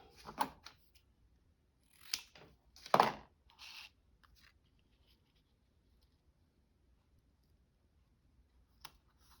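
Scissors snip through paper while trimming a shaker card, a few sharp cuts clustered near the start and then mostly quiet, with one last faint click near the end; close and fairly quiet.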